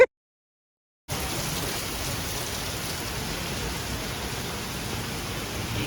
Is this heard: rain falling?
yes